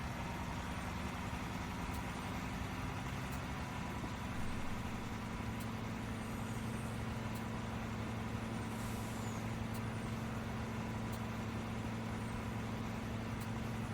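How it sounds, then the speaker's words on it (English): A truck drives in Farming Simulator 19 with a constant low engine drone and hum throughout, broken by faint periodic clicks, with no talking. "I should probably stop that truck."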